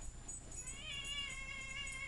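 A cat meows close by, one drawn-out, wavering cry that rises and holds for over a second over faint low background noise, with no talk.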